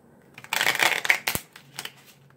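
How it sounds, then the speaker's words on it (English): A deck of playing cards being shuffled for a card trick, with a dense riffling burst followed by a sharp snap and a few softer card flicks, close and fairly loud. "Do a good couple of shuffles here,"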